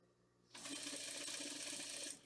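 Sewing machine running a quick stitching seam on a cotton tea towel, starting abruptly after a brief quiet moment and whirring steadily for under two seconds before stopping, close and alone.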